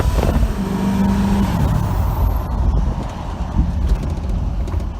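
A turbocharged vehicle with a worn turbo accelerates at three-quarter throttle, a steady close engine roar with a brief rising whine at the start, then a rough, even drone.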